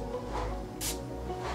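Makeup setting spray misted onto a face, a few short soft hissing bursts, close and fairly quiet over a low background hum.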